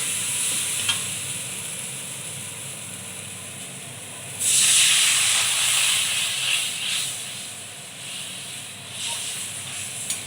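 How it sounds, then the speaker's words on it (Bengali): Water hits a hot pan of frying fish in a Bengali home kitchen, setting off a loud burst of hissing, steaming sizzle over a steady low fry; the hiss flares, then settles back down over several seconds. "এবার জল দিয়ে দেবো"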